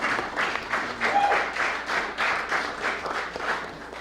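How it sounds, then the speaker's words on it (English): An audience at a presentation applauds parents, a short burst of steady clapping from a room full of people that holds for about four seconds. "Give parents a round of applause."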